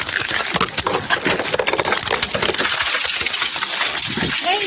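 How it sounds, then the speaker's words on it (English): Car window glass smashed and shattering, dense crunching and splintering fragments filling the whole stretch at close range, loud and continuous with no clear pauses. "break the window and take her out"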